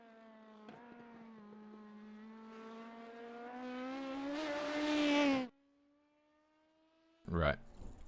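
Race car in a racing video game, a GT3 or LMP-class machine, pulling away: a steady engine tone climbs in pitch for several seconds, cuts sharply, then a brief loud burst returns near the end, with no talk.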